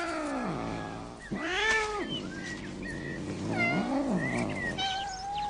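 Domestic cats meow repeatedly, several drawn-out, wavering cries in a row with short gaps between them, close and clear with no talking.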